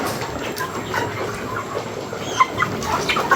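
Native chicken breed clucking outdoors, with scattered short calls over a steady background of farmyard noise and a constant high hiss; the calls are moderately close and come irregularly.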